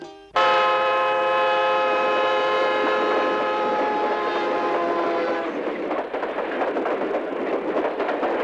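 A train sets off with a loud, long horn blast that holds for several seconds, then gives way to the rumbling clatter of the moving carriages, close and steady with no talking.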